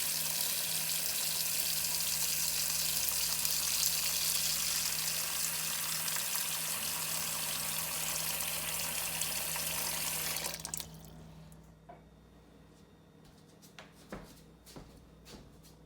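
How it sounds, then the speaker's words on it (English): Tap water pours hard into a kitchen bowl to fill it with ice cold water, a loud, steady rushing stream for about ten seconds before cutting off, followed by a few quiet clinks and handling sounds. "I'm going to fill my bowl back up with ice cold water."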